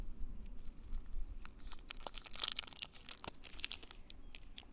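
A Happy Dent chewing gum wrapper from a Spanish 12-hour ration pack being torn open, giving close, fairly quiet crinkling and tearing with scattered sharp crackles, no voices.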